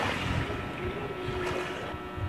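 Waves wash against the shore of Dolomite Beach on Manila Bay, a steady rushing surge heard close by, with wind buffeting the microphone throughout and no voices.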